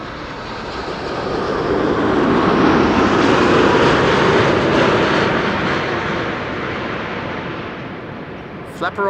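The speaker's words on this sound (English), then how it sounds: "It is a 787-10 Dreamliner." KLM Boeing 787-10 Dreamliner arriving at Amsterdam Schiphol from New York JFK, a broad jet rumble that builds, peaks and slowly fades as it passes nearby, with a brief clatter at the very end.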